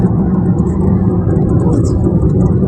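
A car engine with the accelerator pressed lightly, a steady low rumbling hum heard from inside the vehicle, loud and constant with no clear rise.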